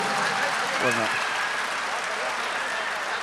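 Audience applause fills a large mushaira poetry gathering in Indore, a dense, steady wash of clapping that runs throughout, with a brief voice surfacing near the start.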